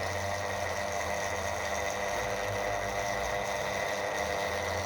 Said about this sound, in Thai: มอเตอร์ค่อนข้างจะดัง